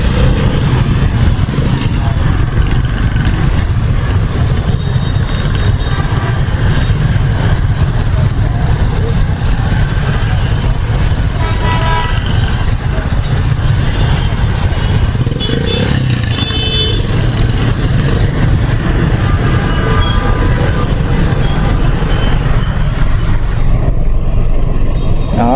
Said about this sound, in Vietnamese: Đông xe lắm, xe bus, xe du lịch, xe chở bệnh nhân đó, rồi xe máy, người đi đường nữa.